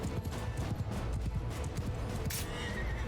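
A horse neighs loudly in a Mount & Blade II: Bannerlord battle, its whinny rising over the thud of hooves and the din of fighting.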